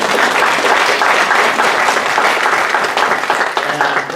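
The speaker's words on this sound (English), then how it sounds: "Let's give Mary all a round of applause" An audience claps loudly and steadily in a dense, continuous round of applause that fills the room without a break.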